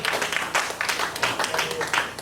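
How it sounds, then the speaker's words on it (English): Audience applause for a panelist at a discussion event, a moderate patter of clapping hands with uneven bursts of claps throughout, fairly close and without talk. "A round of applause, please."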